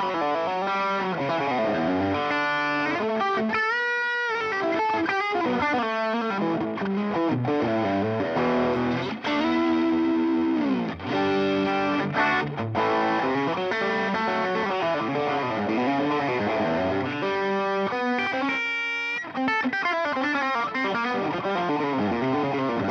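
Electric guitar played through a Boss SD-1 overdrive pedal, a continuous distorted lead with sustained notes, bends and quick runs, loud and steady with a chorus-like shimmer, no talking.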